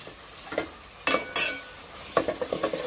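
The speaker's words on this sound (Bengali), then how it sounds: "এখন পেঁয়াজটা আমি লাল লাল করে ভেজে নেব।" Onions fry in hot oil in a home kitchen, sizzling steadily while a utensil stirs and scrapes the pan in several quick bursts, close and fairly loud.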